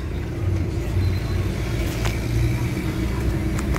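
A car engine with a low-power fault, low pressure and black smoke runs close up at steady RPM, giving a continuous throaty rumble without clear revving.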